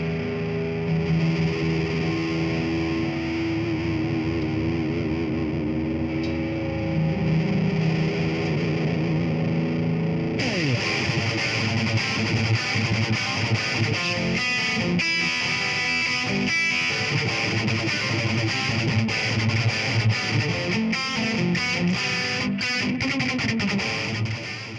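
Distorted electric guitar played through a Friedman Jake E Lee JEL-20 amp head voiced for 80s metal tone, with sustained chords and effects-laden lead lines that grow denser and more aggressive partway through, loud and alone with no talk.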